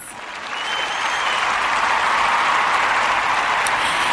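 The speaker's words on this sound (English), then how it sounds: "I'm going to be giving you a round of applause." Sustained round of applause from an audience, swelling quickly and holding steady and loud throughout without speech.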